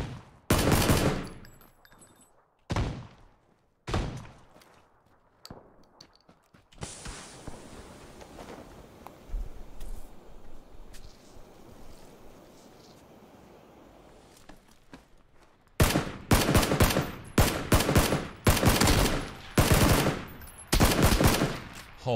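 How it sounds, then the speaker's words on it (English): Gunfire in PLAYERUNKNOWN'S BATTLEGROUNDS with SLR and AKM rifles: sharp single shots and rapid bursts, a quieter stretch of shuffling movement, then a loud run of repeated shots at the end. "Who's shooting me now?"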